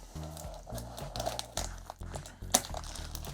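Packaging being unwrapped from a Keychron K4 version 2 keyboard shipped in bubble wrap, a quiet close run of crinkles, rustles and small taps ending in one sharp crackle, no talk.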